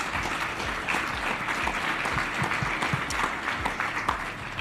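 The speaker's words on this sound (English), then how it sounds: "If everybody could give Richard and his team a big round of applause for a great job." Round of applause from a conference audience after a finance industry panel on multi-family offices and wealth advisors; continuous, moderately loud clapping from a roomful of people throughout.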